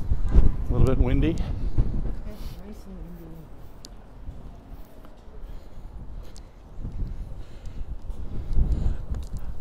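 Outdoor wind buffets the microphone in Hoboken with low, uneven rumbling gusts that rise and fall over several seconds, while a person talks over it.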